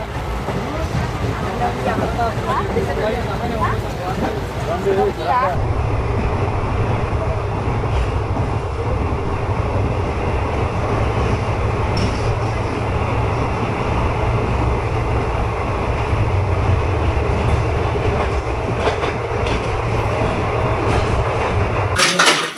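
A train rolls along steadily on a journey from Dhaka toward Agartala, a continuous low rumble with rhythmic rattling of the carriage, heard from inside with voices in the background.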